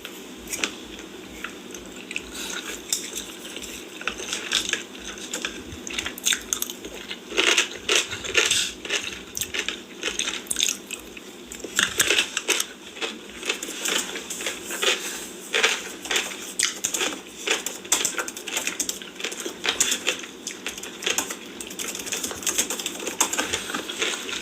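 Someone bites into crunchy food and chews it, a steady stream of close, crisp crackling crunches repeating in an irregular rhythm, with no talk.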